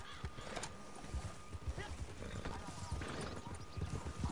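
Horse hooves trot in the video game Red Dead Online, a steady clip-clop rhythm close by, heard under someone talking.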